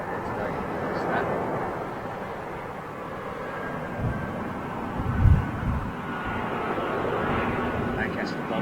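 Lancaster bomber, Spitfire and Hurricane aircraft fly past near Heathrow, a steady broad engine roar that carries through the whole stretch with a brief louder swell midway, mixed with wind rumble.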